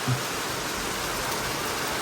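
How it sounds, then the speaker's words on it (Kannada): A steady, dense hiss of heavy rain in Goa pours down without pause, filling the whole clip. "ಸಿಕ್ಕಾಪಟ್ಟೆ ಮಳೆ ಇದೆ ನೋಡಿ"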